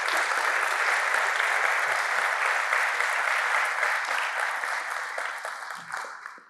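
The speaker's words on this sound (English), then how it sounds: "you get a round of applause" An audience at a machine learning cost efficiency talk bursts into sustained, dense applause, loud and even before gradually thinning out toward the end.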